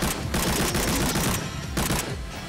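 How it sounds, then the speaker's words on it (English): A machine gun in the video game Wave Break fires a continuous, dense stream of rapid shots, loud and close, with a few brief gaps between bursts and no talking. "we got the machine gun now, which gives me a pile of ammo"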